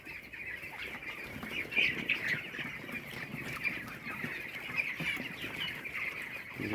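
Brooder chickens with pneumonia cluck and murmur continuously, a busy flock heard fairly close, with scattered sharper calls over a steady background chatter.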